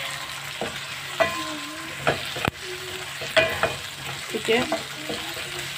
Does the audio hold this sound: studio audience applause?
no